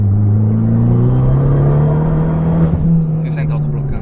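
An Abarth 595 engine with a Cadamuro exhaust revving with a steady rising drone, followed by a few crackling exhaust pops near the end, loud and close.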